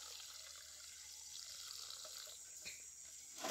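Cold water runs steadily from a tap while eggs are prepared for a boiled-egg eating party, a continuous faint rushing stream with a brief splash near the end.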